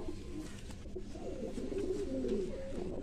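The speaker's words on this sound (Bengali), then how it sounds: "এই হলো পায়রাটা, দেখেছো লাল লাল ভাব আছে" Low pigeon cooing from a red-tinged fancy pigeon of the Giribaj breed, a steady soft rolling coo running through the clip against a dull background hum.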